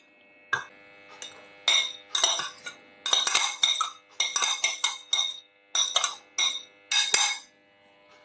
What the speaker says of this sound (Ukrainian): Перемішуємо і додаємо у сиркову масу.